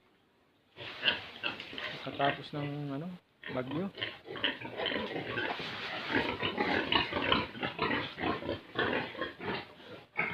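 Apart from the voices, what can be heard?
pigs oinking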